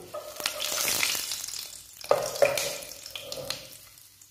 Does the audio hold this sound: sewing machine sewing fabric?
no